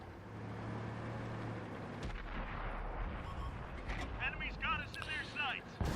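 Tank gun fire in a tank video game in a ghost town: a heavy low boom and rumbling engine noise, followed by mechanical clanks and whirring, with speech over the top.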